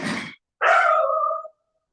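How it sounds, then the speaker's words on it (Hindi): An injured dog barks outdoors, one short rough bark followed by a longer, drawn-out whining yelp, moderately loud and alone with no talk over it. "बाहर एक डॉग था, उसको थोड़ी सी चोट लगी हुई थी, इसलिए वो भौंक रहा था बहुत।"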